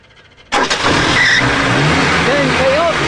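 A Suzuki car engine cranks and catches with a sudden loud burst, then keeps running with a rough, revving roar close by; people talk briefly over it.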